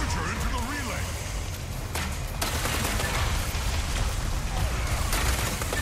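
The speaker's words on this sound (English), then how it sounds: "I'm shooting at it to get its attention." Rapid gunfire from a weapon in the Overwatch 2 Invasion PvE mission in Rio de Janeiro, dense, loud and continuous, mixed with game effects and music.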